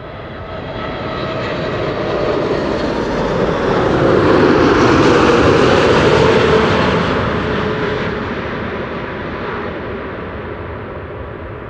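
A Boeing 747 lands at Amsterdam Schiphol Airport with a loud, broad roar that swells toward the middle and eases off gradually as it passes, with no voices.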